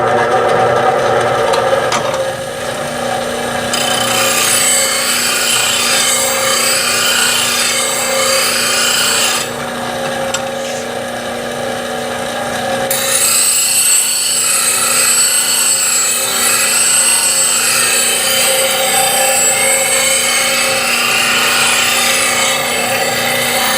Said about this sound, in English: So let me show you sharpening with this fixture.